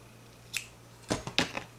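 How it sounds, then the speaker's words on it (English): Scissors are picked up and snip crochet yarn while making an amigurumi octopus, giving a few quiet, close metallic clicks and a short cut in the quiet. "so I've just gonna grab my scissors."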